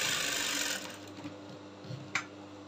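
A sewing machine stitches structured detail on a corset. It runs with a steady, fairly loud whir for just under a second, then drops to quiet background with a few faint clicks and one short knock.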